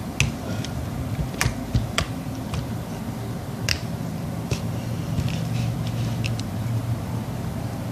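Strawberry creamy slime squished and stretched by hand, giving crisp scattered clicks and little pops over a steady low background hum, with no voices.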